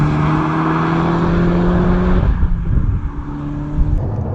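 Peugeot 308 GTI with the 1.6 PureTech engine driving past, a loud engine note holding steady tones before shifting and fading as the car moves off, with road noise trailing behind.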